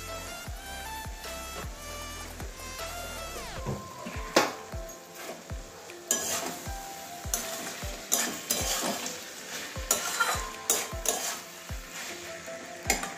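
Potato and bitter gourd chorchori with mustard paste and a drizzle of raw oil is stirred in a pan. Rhythmic spoon knocks and scrapes sound over a light sizzle, with background music.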